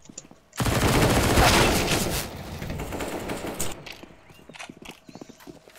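Gunfire in a video game: a sudden sustained burst of rapid automatic fire, loud and dense for a few seconds, tapering into scattered clicks and softer shots.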